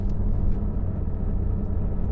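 Porsche 911 S/T engine running from inside the cabin, a steady low rumble and mechanical clatter that stays constant and fairly loud throughout, with no voices.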